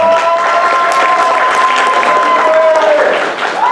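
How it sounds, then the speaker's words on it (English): Applause and cheering fill a pageant finale crowd at a Vietnamese festival, loud and continuous with whistles and shouts over dense clapping throughout. "please give a round of applause to all of them"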